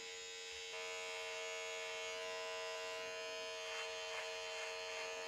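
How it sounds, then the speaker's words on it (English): Andis Slimline Pro trimmer fitted with a wide GTX blade buzzing steadily and close up, a continuous bright electric hum with slight shifts in pitch as it works, no talking. "now I'm actually using my new Andis GTX blade from the Slimline Pro, which is a wider blade"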